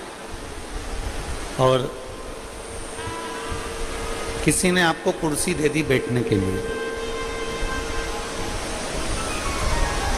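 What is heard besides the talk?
rain falling during outdoor religious discourse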